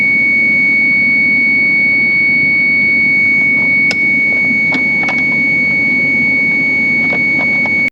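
A steady high-pitched electronic buzzer sounds continuously inside a Hiace van with a 1UZ-FE engine, manual transmission and a Link ECU. The tone rides over an idling engine rumble, with a few sharp clicks.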